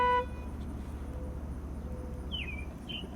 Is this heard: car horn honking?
yes